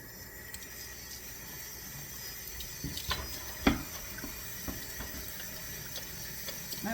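Steady tap water runs into a sink while a cutting board is washed after handling raw meat in a home kitchen, a continuous close rush broken by a few soft clunks and knocks near the end.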